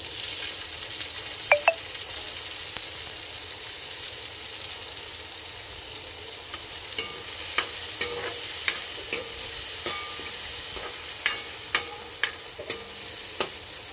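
Onion and tomato frying in a pan for masala Maggi, with a soft continuous sizzle and sharp spoon taps and scrapes against the pan, the taps coming more often in the second half, with no talking.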